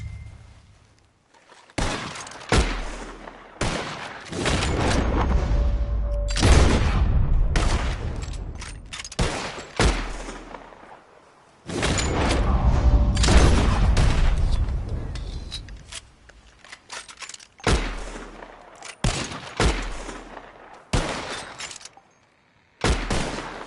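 Bursts of gunfire from a shooting game, arriving in clustered volleys with brief pauses between them, loud and close throughout.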